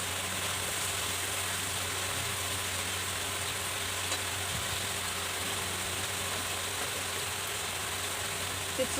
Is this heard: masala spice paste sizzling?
yes